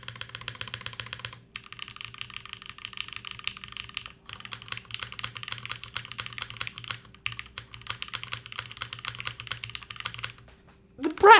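A custom keyboard with a brass plate and milky yellow switches is typed on in close, steady bursts of clacky keystrokes with brief pauses, ending in a short vocal sound.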